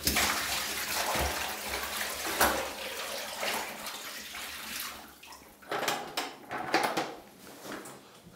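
Water rushes from an old hot water tank being drained through a pipe into a shower during a 1920s house renovation, a steady near gush with splashing and a few clunks, no talk.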